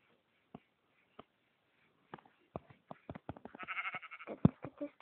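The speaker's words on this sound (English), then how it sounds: "there's another sheep there" Sheep bleating in the Minecraft video game, preceded by a few sparse clicks and taps that quicken into a busier patter, with a short bleat near the end, fairly quiet with no talk.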